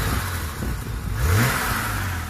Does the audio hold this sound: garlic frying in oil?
no